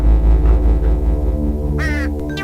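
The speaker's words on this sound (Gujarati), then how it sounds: "કાગડાને ભગાડી દીધો" A cartoon crow in a Gujarati kids' animation lets out two sharp, nasal caws near the end, the first longer and the second brief, over a low steady musical backing.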